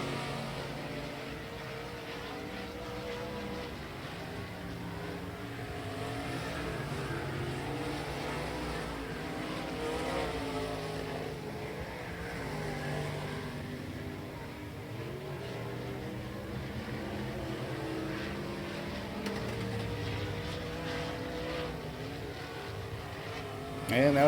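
A race car lapping the Salina HighBanks track during a heat race: a steady, droning engine roar that holds constant and fairly loud throughout, heard from inside or close to the car, with no talk.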